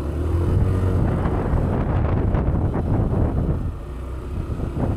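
A Yamaha NMAX Turbo scooter accelerating hard in S mode, a steady loud engine roar smeared with heavy wind buffeting across the microphone, no clear gaps throughout.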